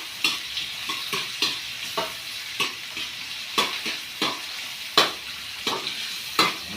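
Tomatoes sizzle in a hot pan for kinamatisang leddeg while a utensil stirs them, giving a string of sharp scraping clicks at an uneven rhythm over a soft, steady frying hiss.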